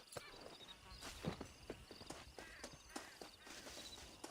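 A horse's hooves clip-clop at a walking pace in Red Dead Redemption, a series of distinct, fairly close hoof strikes with faint background ambience and a few quiet words spoken.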